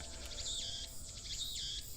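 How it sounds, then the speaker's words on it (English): Cicadas drone on a hot evening in pulsing, shrill buzzing waves that swell and fade twice over a low background hum, steady and moderately faint with no talk. "Damn cicadas won't shut up."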